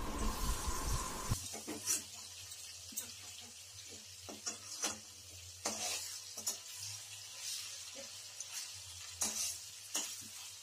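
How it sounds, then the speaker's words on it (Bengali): Hilsa fish curry with dried chilli fries in a pan under a steady low sizzle, broken by repeated scraping and clattering strokes of a spatula as it is stirred, fairly close. "এবার আমি শুকনো লঙ্কাটা এর মধ্যে একটু ছিটিয়ে ভালো করে নাড়াচাড়া করে কষে নেব।"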